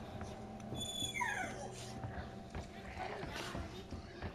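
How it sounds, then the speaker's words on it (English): A dog whimpers and fusses in a Resident Evil 2 game scene, its whines and scuffling steps running continuously under a busy mix of game sounds and talk. "Now you're acting up, dog."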